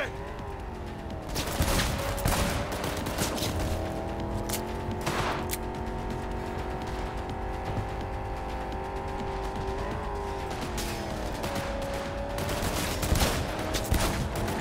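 Gunfire and vehicle noise in Cyberpunk 2077 on very hard difficulty, with a car engine droning and shifting pitch throughout, overlaid by scattered shots and sharp impacts during a chaotic driving shootout.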